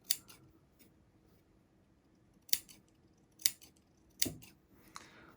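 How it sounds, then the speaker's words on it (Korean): A tailor's scissors make sharp, close snips through bespoke suit fabric, several short distinct cuts spaced a second or so apart against a quiet room. "가위밥을 이렇게 줍니다"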